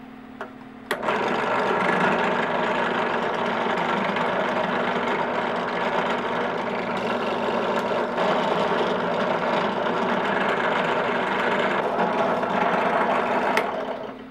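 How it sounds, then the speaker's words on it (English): Steady, continuous drilling of holes through a Kydex holster held in a jig, a loud sustained motor whine running unbroken for over twelve seconds with a couple of brief clicks. "we got all the holes drilled out"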